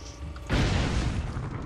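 A sudden loud explosion blasts out in the video game Expendabros, a broad booming burst that hits at once and rumbles on for about a second with no talk over it.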